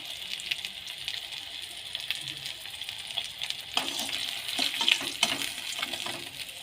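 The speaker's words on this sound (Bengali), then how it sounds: "বাকি মাছগুলো ভাজতে দিয়েছি" Pieces of rohu fish fry in hot oil, a continuous bright sizzle close by with occasional clinks and stirring scrapes, no talk.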